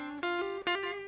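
A single sustained electric guitar note bent and shaken in a wide vibrato, with two quick re-picks that give it a wavering pitch, close and clear with no voices.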